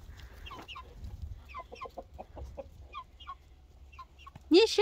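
Hens cluck in a yard, with several short bursts of clucking at a loose rhythm, fairly close, followed by a sudden louder squawk at the end.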